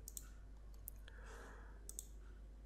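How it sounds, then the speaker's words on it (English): Computer mouse clicks on a settings button, a few faint, sharp clicks spaced irregularly over a quiet background hum. "click on LAN Settings button at the bottom"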